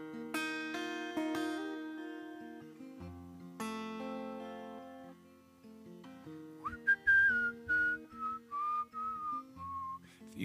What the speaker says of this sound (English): I do practice. I whistle probably every day somewhere, just kind of doing stuff.